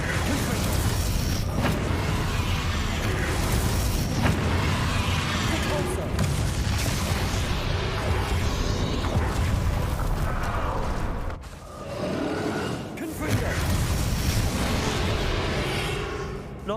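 Explosions from the Bombarda spell in a wizard video game, heavy booms and rumbling blasts filling a dense, continuous battle soundscape, with a voice shouting spell names over the din.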